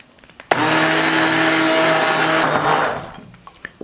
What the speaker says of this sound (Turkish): Eklediğimiz kuru malzemeler ve suyu bir blender ile iyice karıştırarak eziyoruz.